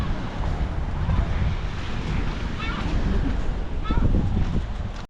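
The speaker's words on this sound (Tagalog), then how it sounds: "Lakas ng alon." Strong sea waves surge and wash at Barry Island beach, a steady roar of surf under heavy wind buffeting on the microphone, with louder breaking swells near the end.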